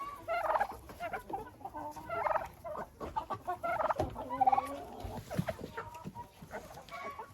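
Domestic turkeys gobble and cluck repeatedly while feeding from a bucket clamped between two stumps, loud and close with overlapping bird calls throughout.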